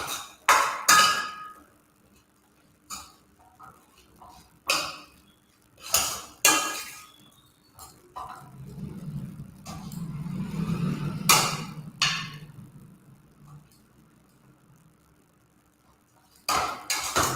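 Boiled potatoes being mashed in a pan produce sharp, irregular metallic knocks and scrapes of the masher against the pan, spaced a second or two apart, with a softer stretch of mushy scraping in the middle.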